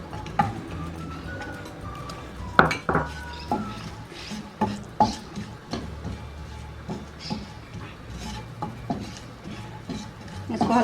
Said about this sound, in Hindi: इसको हल्का सा फ्राई कर लेना है।